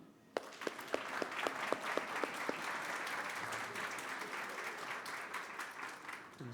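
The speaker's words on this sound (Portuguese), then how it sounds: "Vamos aplaudir?" A church congregation applauding, opening with a few sharp individual claps that swell into sustained, moderately faint applause from the room.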